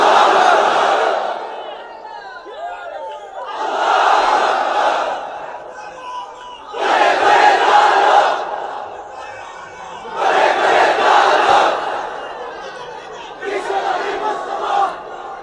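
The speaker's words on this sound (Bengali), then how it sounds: "তাকবীর পড়েন তো দেখি, যারা চলবে বলতেছেন লিল্লাহি তাকবীর।" A large crowd at a Bengali Islamic sermon chants the takbir in loud unison, five shouted bursts in a steady call-and-response rhythm with short quiet gaps between them.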